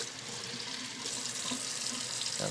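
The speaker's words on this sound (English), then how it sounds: "I'm just rinsing it out really well here." A DryShield isolation mouthpiece is rinsed under a running tap, a steady close hiss and splash of water pouring over it throughout.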